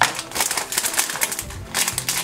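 Scissors cut open a Littlest Pet Shop blind bag package, making a quick run of crisp snipping and crinkling plastic sounds, close and fairly loud, with no talk.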